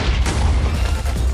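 An explosion of a box in the Minecraft video game, a loud, dull boom with a rumbling low-end body that fills the short moment and fades with a crackling tail.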